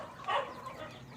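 Rhode Island Red chickens give a brief clucking call, close and moderately loud, over a quiet yard background.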